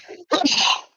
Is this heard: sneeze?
yes